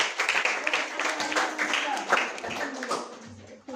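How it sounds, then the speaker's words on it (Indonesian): Students in a classroom clap their hands in a short, uneven burst of close, scattered claps that fades quickly. "tepuk tangan untuk Mas Sandra."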